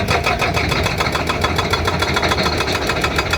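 A Kobelco 210 LC excavator engine runs steadily, loud and continuous with a fast, even pulsing throb throughout and no talking.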